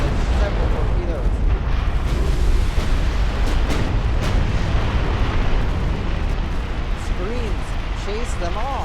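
Torpedo explosions and heavy naval gunfire from the warship battle game Ultimate Admiral: Dreadnoughts, a dense, continuous roar of booms and blasts with whistling shells, loud and sustained throughout, with a voice talking over it.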